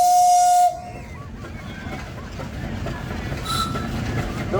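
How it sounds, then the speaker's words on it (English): An 1880 single-cylinder Fowler steam traction engine from John Fowler and Company of Leeds, in a traction engine parade, gives a loud, shrill whistle blast, then hisses steam steadily and closely. "Lee's engine bringing up the rear of that, which is a single-cylinder Fowler built in 1880"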